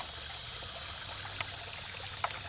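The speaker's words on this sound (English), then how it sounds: "Well, clearly it's fresh water. I mean, nice little waterfall over there." A small freshwater waterfall trickles and splashes softly in the background, a faint steady wash with a couple of small water plinks.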